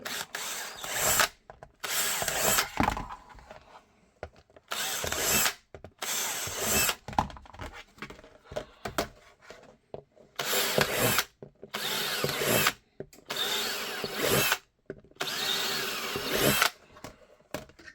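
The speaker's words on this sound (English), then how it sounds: "Now we'll just drill the holes and then cut out the circumference." A power drill whirs in repeated short bursts with pauses between, biting into material at close range, several holes drilled one after another for a QLS setup for an SA Echelon pistol with a TLR8 light.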